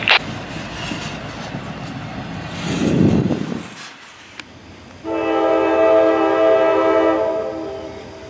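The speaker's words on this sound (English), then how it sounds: "CSX AC4400CW number 401 in command, with a great crew and a beautiful K5 LA horn as it passes through Southwark" CSX AC4400CW locomotive sounding a K5LA horn as it passes through Southwark: a brief rumble of rail traffic, then a loud, sustained multi-chime horn blast close by that holds for several seconds.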